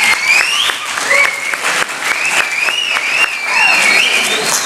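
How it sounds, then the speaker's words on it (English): Loud audience applause at a community event with rabbis, a dense wash of clapping close by, with cheers and whoops rising over it throughout. "So another round of applause, please, for you guys."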